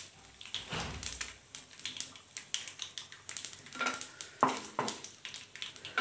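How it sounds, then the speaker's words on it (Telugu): A tempering of chana dal, urad dal, mustard seeds and a dried red chilli fries in oil for a beetroot moong dal curry, giving quiet sizzling with rapid irregular pops and crackles close by. No voices. "ఆయిల్ కొంచెం వేడెక్కిన తర్వాత శనగపప్పు మినపప్పు ఆవాలు వేసుకోవాలి ఇవి కొద్దిగా ఫ్రై అవ్వాలి"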